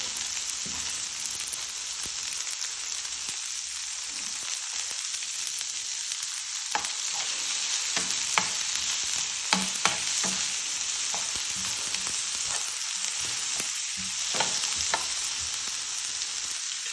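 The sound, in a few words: tomatoes and onions frying for pig soup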